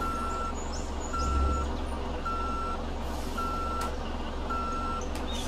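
A Scania 113 truck hauling a heavy bitrain load of limestone strains to pull away on a climb, its low engine rumble steady beneath a repeating series of loud electronic reversing beeps.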